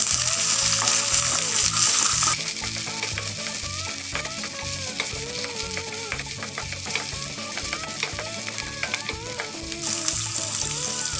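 Tomatoes sauté in a pan for potato kulambu with a loud, continuous sizzle, while a utensil stirs and scrapes again and again through the hot oil.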